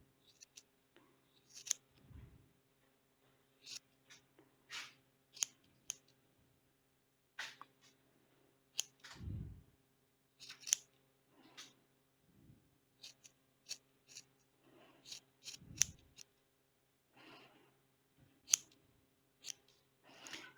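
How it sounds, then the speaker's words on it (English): Scissors snip through loops of yarn for a crochet Easter bunny ragdoll, giving scattered close, quiet cuts and clicks in irregular bursts with pauses between them, with no talking. "Now you're going to go loops and start cutting."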